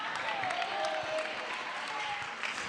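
Thin, scattered applause from a church congregation, a few hands clapping faintly for a couple of seconds without cheering.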